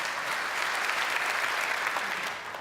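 An audience claps together in a dense, sustained round of applause that holds steady, then fades slightly at the very end.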